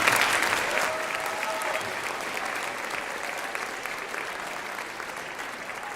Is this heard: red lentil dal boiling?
no